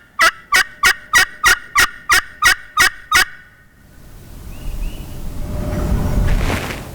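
A wild turkey on public land in Missouri gobbles in a rapid rhythmic burst of about nine loud, close pulses, followed by rustling movement and rising wind-like noise.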